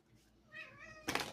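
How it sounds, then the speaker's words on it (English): A cat lets out a single faint, drawn-out meow in a quiet room, followed by a short burst of louder rustling or handling noise near the end. "What are you meowing about?"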